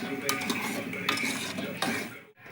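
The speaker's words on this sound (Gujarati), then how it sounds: "જો આપણે સરસ મજાનું હલાવી નાખશું" Pav bhaji being stirred in a pan, a spoon scraping and clinking against the metal in several close, distinct strokes over a faint sizzle, then a short pause.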